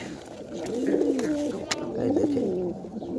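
Pigeons coo in a loft, their low throaty rolling calls repeating close by in soft overlapping phrases, with a few sharp clicks and a brief spoken remark.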